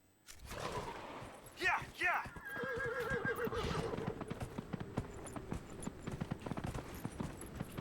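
A horse whinnies loudly twice in quick succession, then hooves clip-clop steadily beneath rumbling game sounds and a busy background, in the video game Dragon Age: Inquisition.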